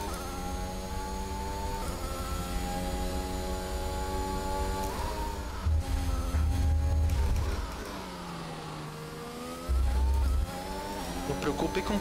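A Williams Formula 1 car in the F1 2021 racing game, practising at the Japanese circuit, its engine drone rising and falling through gear changes for the whole stretch while someone talks over it.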